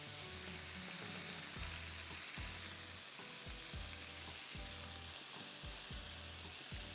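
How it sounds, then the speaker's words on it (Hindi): Shashlik grills in a grill pan with a dense, steady sizzle, while low rhythmic thumps and rattles repeat underneath, close and continuous, with no voices. "अब ये ग्रिल पैन में ही मैं इसको ग्रिल कर लूँगी।"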